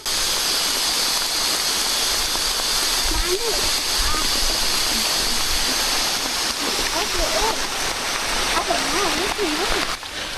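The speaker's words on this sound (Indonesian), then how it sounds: "hujannya ternyata cukup lebat" Heavy rain falls on a mountain trail up Gunung Parang in Purwakarta, a loud, dense, continuous hiss and patter with people's voices faintly under the downpour.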